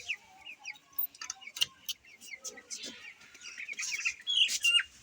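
Young chicks peep and cheep in a small flock while being held one by one for eye-drop Ranikhet vaccination at home, with bright, rapid high-pitched calls scattered throughout and growing louder toward the end.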